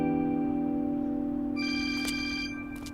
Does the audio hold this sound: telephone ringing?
yes